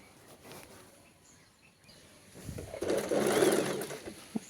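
A sewing machine stitches fabric for a girl's frock, quiet at first and then running in a fast, even rattling burst near the end.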